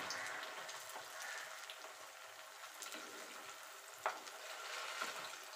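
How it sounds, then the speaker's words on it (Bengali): Chira-based rasbora patties shallow-frying in a little oil, a faint steady sizzle with soft crackles and one small clink, no talk. "এপিট ওপিট করে একটু লাল লাল করে আমি এগুলো ভেজে তুলে নেব।"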